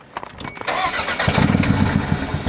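A Toyota 3SGTE turbo engine, recently rewired with its resistor packs bypassed, cranks briefly and catches, then settles into a loud, steady, slightly rough idle nearby.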